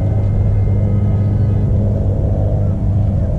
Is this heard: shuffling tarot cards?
no